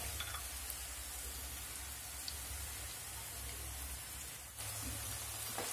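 Sliced onion frying with ginger-garlic paste in a pan for a chicken curry, an even, soft crackling sizzle that holds steady throughout, with a brief stir-like scrape near the end and no talking.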